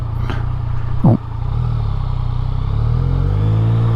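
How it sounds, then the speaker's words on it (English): A vehicle engine revs while driving in second gear on a Scottish Highlands road tour, a steady loud drone with low rising harmonics swelling toward the end, broken by a brief sharp knock near the start. "let's give it a few extra revs"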